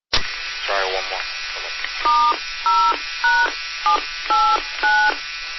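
Electronic beeping tones from a Speak and Spell toy heard over an amateur radio repeater, a series of short pitched beeps in a steady rhythm, clear and fairly loud over a constant hiss.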